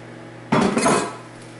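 A hot metal pan clanks down into a sink after a moment of quiet, a sharp clatter that rings briefly and fades, followed by sizzling.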